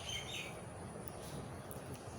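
Pet pigeons gathering to feed at home, with faint chirps and light calls over soft background noise.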